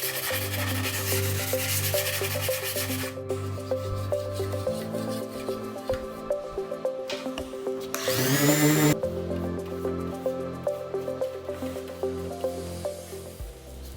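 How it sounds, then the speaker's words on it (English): An orbital sander whirs and grinds against cedar wood, with a steady buzzing hum that briefly rises in pitch and roughness midway. "The sanding discs have Velcro to stick to the orbital sander."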